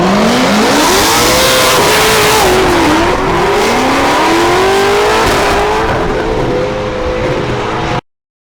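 Formula DRIFT competition cars at St. Louis, loud engines revving hard with wavering pitch as they slide, tire squeal and skidding mixed in, close and continuous before cutting off abruptly.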